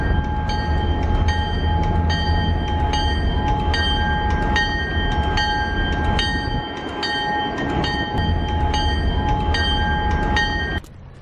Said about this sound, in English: I have never seen a train pass here, ever.